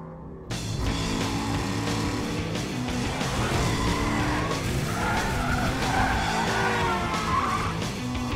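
Race cars skid with long tire squeals over a steady, loud engine roar, a continuous reckless-driving scene heard alone without talk.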